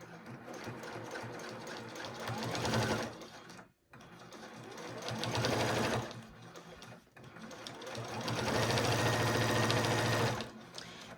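A sewing machine stitches a quilt-as-you-go dish mat in three long runs of rapid, whirring mechanical clatter, each broken by brief pauses. The machine is close and loud, with no talk.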